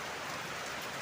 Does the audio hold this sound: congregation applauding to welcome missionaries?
no